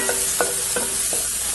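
Garlic frying in a pan for a green bean casserole, a steady soft sizzle with several rhythmic scraping strokes of a utensil stirring, close and without speech.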